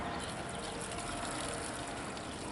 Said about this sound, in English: I'm going to pour some vinegar in it.